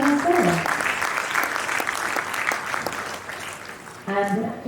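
Audience at a 2021 graduation ceremony at the BMICH breaking into sustained applause, a dense wash of many hands clapping steadily, with a brief voice at the start and again near the end.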